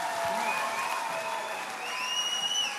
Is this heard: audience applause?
yes